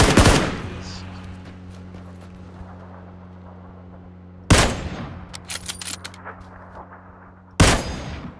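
Gunfire in PUBG, with a sustained burst that rings out, then two sharp loud shots or bursts after several seconds of decaying echo and a steady low hum, close and loud.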